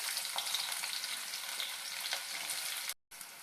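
Onion fries in hot oil with mustard seeds, a loud, steady crackling sizzle with light stirring that cuts out briefly near the end, with no voices.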